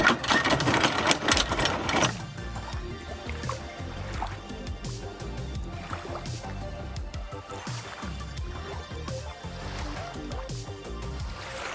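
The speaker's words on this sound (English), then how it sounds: "you can now start paying out your anchor chain" A rapid mechanical rattling of a boat's anchor chain running out, loud at first then continuing more quietly with clanks and water sounds.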